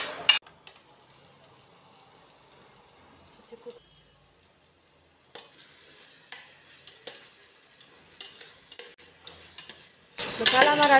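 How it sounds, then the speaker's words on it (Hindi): Potatoes get stirred into frying masala in a pan: a spoon scrapes and clatters against the pan in short bursts over a low sizzle, with a brief quiet gap and a louder burst of frying at the end. A person speaks briefly. "इसमें ऐड डाल देंगे आलूओं को, मिक्स कर देंगे हम।"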